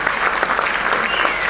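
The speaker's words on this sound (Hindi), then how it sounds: "एक बार जोरदार तालियां इसके लिए।" Dense, steady applause from an audience at a business event in India, many hands clapping at once for the full stretch, loud and close, with no speech over it.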